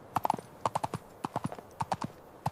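A horse's hooves clip-clop close by in a brisk, uneven rhythm, about two dozen crisp strikes with no voices.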